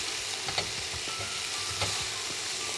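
Mostly cooked filling for chops fries in a pan, a dense, steady sizzle that stays loud throughout, broken by occasional scrapes of stirring.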